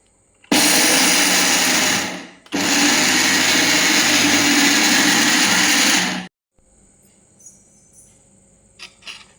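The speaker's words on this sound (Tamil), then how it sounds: "இதெல்லாம் போட்டு நல்லா அரைச்சிக்கிடணும்." An electric mixer grinder blends coconut, green chilli, ginger, garlic, roasted gram and salt into chutney, two loud whirring bursts of about two and four seconds separated by a brief pause, then quiet clinks as it stops.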